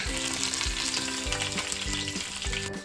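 Bay leaf, cardamom, cinnamon and cloves sizzle loudly in hot oil for biryani gravy, a steady close frying hiss with the rhythmic scrape of stirring.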